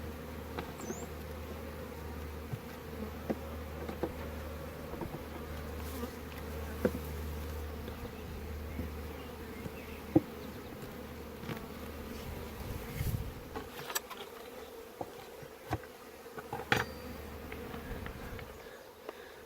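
Honeybees buzz around an open hive during a split inspection, a faint, continuous drone with occasional louder passes of individual bees close to the microphone.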